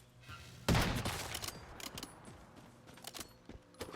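In the video game Once Human, a gun fires one loud, close blast, followed by a scatter of sharper, lighter shots and clattering mechanical clicks over a few seconds, with no talking.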